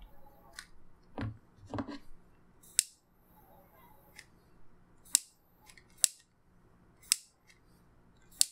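Scissors snip excess material during the build of an Eachine Tyro 79 quadcopter, several sharp close cuts spaced about a second apart over soft handling noises.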